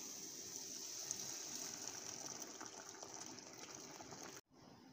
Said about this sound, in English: So now let me add the boiled water.